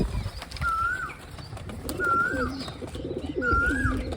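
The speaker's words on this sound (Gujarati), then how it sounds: "તો જો આવી રીતનું વ્હાઈટ કબૂતર છે." A white pigeon kept by a pigeon fancier coos three times in a steady, evenly spaced rhythm, close and clear with no talk.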